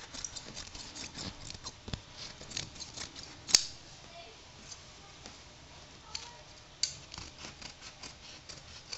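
Scissors cut across upholstery fabric along a cut line while a couch is being reupholstered, making quiet, irregular snipping clicks with one sharper snap in the middle.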